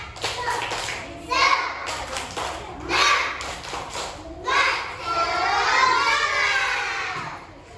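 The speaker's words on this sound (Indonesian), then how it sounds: "Tepuk semangat." Children in a classroom chant the rhythmic Indonesian 'tepuk semangat' spirit clap, with voices and hand claps overlapping in a lively, patterned sequence that swells and rises toward the end.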